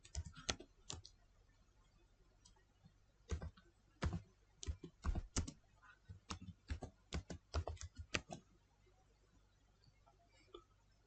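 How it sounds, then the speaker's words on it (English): Typing on a computer keyboard while entering a title in the Windows 10 Photos app: irregular bursts of quiet key clicks, some sharp, with short pauses between them, close and without talk. "type your title."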